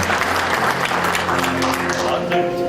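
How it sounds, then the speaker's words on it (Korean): Audience applause at a Korean university architecture department's 40th anniversary ceremony as an alumnus architect comes forward for a plaque of thanks; steady clapping with a murmur of voices and a faint tonal background. "박수로 맞이해 주시기 바랍니다"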